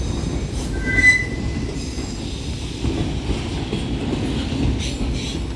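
A Union Pacific manifest freight train passes close by with a steady rolling rumble, rhythmic wheel clatter and a brief high wheel squeal, all fairly loud and continuous.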